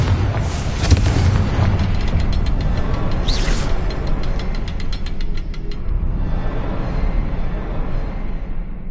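Fiery blasting-spell explosion from the Hogwarts Legacy game, a loud boom that rolls into a dense crackling, rumbling burst with rapid rattling debris, staying heavy and close before easing off into a lingering low roar.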